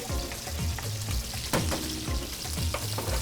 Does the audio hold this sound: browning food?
yes